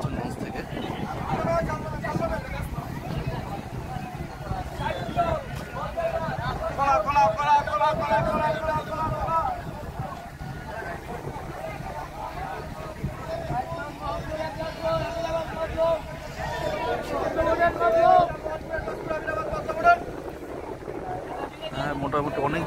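Passenger launch boat docked at the Munshiganj river ghat on a Dhaka to Chandpur trip, giving a steady, loud engine drone with wind buffeting the microphone and people's voices mixed in throughout.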